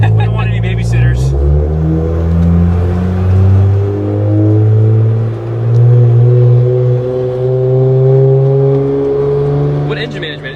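A Nissan Skyline GT-R engine revs and pulls hard during a ride-along, its note rising and falling through gears up close inside the car, with brief voices at the start and end.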